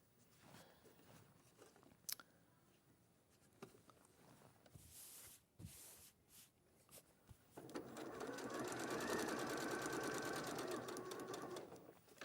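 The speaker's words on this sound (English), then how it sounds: "you're just going to stitch that short bit there" Sewing machine stitching a short quarter-inch seam on a quilted craft case, starting with faint handling taps and rustles, then a steady close whirring run of stitching over the last few seconds.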